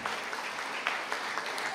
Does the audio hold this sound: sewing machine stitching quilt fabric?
no